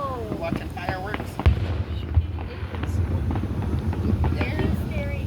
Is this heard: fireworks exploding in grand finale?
yes